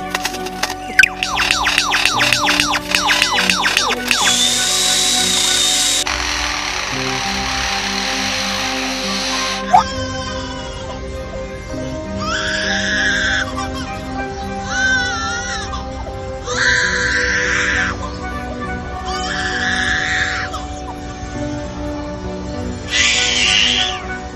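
A lyrebird mimics a rapid series of sounds: mechanical clicks, a harsh noisy burst, then repeated cry-like squawking calls, loud and close over a continuous background hum.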